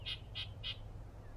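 Three quick, evenly spaced squawking bird calls ring out outdoors, fairly faint against a low steady background rumble.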